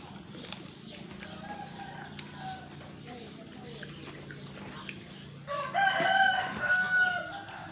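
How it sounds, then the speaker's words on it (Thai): A rooster crows loudly near the end, preceded by background chatter and clucking farmyard noise. "ไก่"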